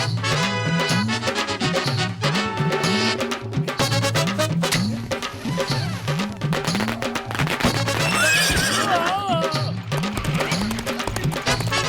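A cartoon horse in an animated wedding procession neighs and whinnies repeatedly over rhythmic galloping hoofbeats, loud and up close, with a musical backing running beneath and no speech.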